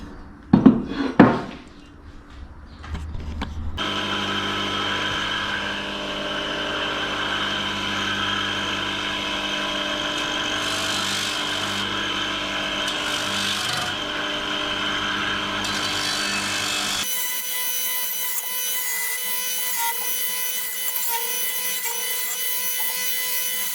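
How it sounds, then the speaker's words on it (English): Grinding the welded area of an Indian Chief hotrod crankcase: a few scraping clanks, then a sustained high whining grind that holds steady before shifting to a thinner metallic tone, close and loud without talking. "So now I will go down and grind it a little bit better."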